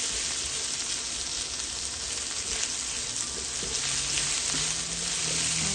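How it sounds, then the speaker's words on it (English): Garlic stir-fries in hot oil, giving a constant dense sizzle and crackle at close range that holds steady throughout with no voices. "you want to get the garlic to release its flavor onto the oil so it permeates the dish as you stir fry"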